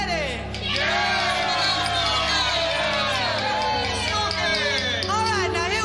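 A large crowd cheers, shouts and whoops after being hyped up by an MC, a loud sustained roar of voices with scattered yells across the whole stretch.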